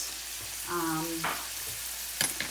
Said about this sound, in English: I'm going to give this a stir now